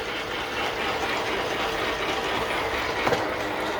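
A 1939 Sheldon lathe runs under power feed with the half nut engaged, giving a steady close mechanical whir and gear rattle with a faint ticking texture, with no voices.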